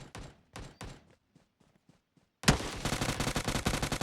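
MK rifle gunfire in the mobile battle-royale game PUBG Mobile, a few spaced shots at the start followed by a loud, dense rapid burst of repeated firing in the second half, with no voice over it.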